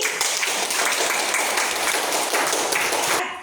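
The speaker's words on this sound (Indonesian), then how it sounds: "kita beri tepuk tangan sekali lagi" A school audience at an Indonesian P5 Pancasila student project event gives dense, sustained applause. Many hands clap loudly together in a continuous roar that cuts off abruptly at the end.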